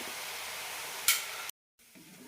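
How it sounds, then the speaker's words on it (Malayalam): Ragi flour mixture fries in a pan over a medium flame with a soft, steady sizzle. A brief sharp click cuts in, then a moment of silence, and the faint frying resumes. No voices are heard. "മീഡിയം ഫ്ലെയിമിലിട്ട് വറുത്തെടുക്കാം"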